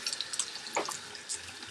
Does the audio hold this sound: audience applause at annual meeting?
no